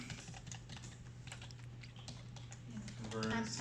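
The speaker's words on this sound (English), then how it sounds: "I'm typing." Typing on a computer keyboard while converting feature lines in a drafting tool, a steady stream of faint, soft clicks under a constant low hum, with a voice speaking briefly near the end.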